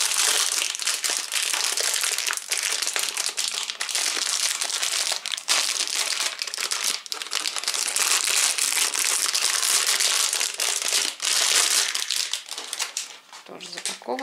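Plastic packaging on a flexible toy car-track construction set is torn and opened, producing loud, continuous close crinkling and crushing for several seconds, with brief talk mixed in.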